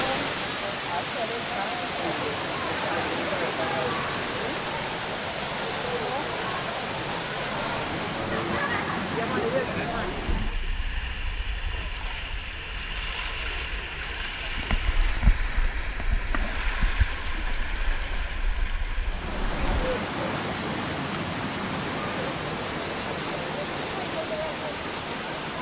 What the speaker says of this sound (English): We're here on top of Reach Falls. This is the main fall behind us.